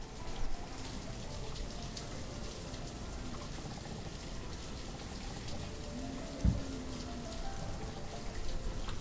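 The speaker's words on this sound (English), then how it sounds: "it's nice weather, aside from the rain." Steady rain in the town-building video game Banished, a dense, even patter of falling drops that holds without a break, with one brief soft thump partway through.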